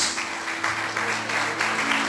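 Church congregation clapping during an evening service, a steady, moderately loud patter of many hands filling the short stretch with no one speaking.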